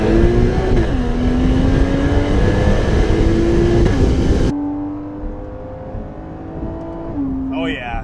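Flat-six exhaust from a 2015 Porsche Cayman GTS with PDK, heard from the cabin while driving, holds a steady drone that climbs and drops through quick shifts, loud and continuous, then eases to a lower hum with a brief rise near the end.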